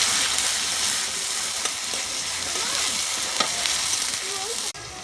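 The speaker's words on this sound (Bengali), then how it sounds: "পেঁয়াজ দিয়ে দিলাম, পেঁয়াজটা ভেজে নেবো ভালো করে।" Sliced onions fry in hot oil in a pan during home cooking of a chicken curry. A loud, steady sizzle runs throughout, broken by occasional scrapes and clinks as a spoon stirs, and the sound cuts off sharply near the end.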